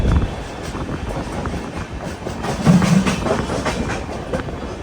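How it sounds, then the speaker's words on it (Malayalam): An express train pulls into Surat railway station with steady clacking wheels on the rails and a rumbling carriage, close and continuous, with a brief squeal or clunk midway and no talking. "സൂറത്ത് റെയിൽവേ സ്റ്റേഷനിലേക്ക് ഇതാ വണ്ടി എത്തിക്കൊണ്ടിരിക്കുകയാണ്."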